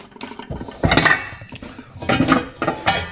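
Saucepans handled in an apartment kitchen, giving a few loud metallic clanks and knocks in short bursts, close by with no voices.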